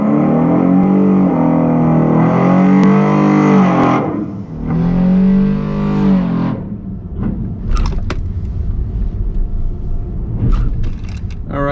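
An El Camino street car on full slicks with a single racing seat revs hard at a drag strip. A loud, close engine drone holds for several seconds, dips briefly, surges again, then fades into scattered clatter and background noise.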